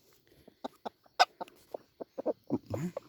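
A jungle fowl at a trap in Vietnam gives a series of short, sharp clucks in an uneven rhythm, fairly close and clear, ending in a longer, squawking call.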